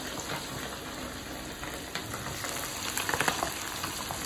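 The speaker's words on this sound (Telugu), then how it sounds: "ఆయిల్ వేడైందండి. నేను పీసులు వేసుకుంటున్నాను." Half a kilo of chicken pieces hiss and crackle in hot oil for kebabs, a steady, fairly quiet sizzle with a few sharper pops near the end.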